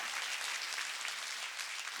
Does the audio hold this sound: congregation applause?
yes